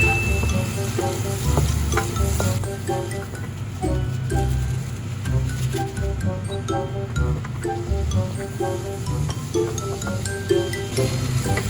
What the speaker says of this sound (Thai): พอผัดไปสักพักหนึ่งกุ้ง ก็จะสุกประมาณเท่านี้นะคะ